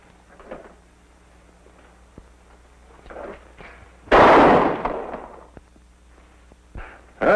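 A single loud gunshot rings out at close range during an old-West shooting contest, a sharp burst with a short decay, preceded by faint footsteps and small knocks and followed by another crack at the very end.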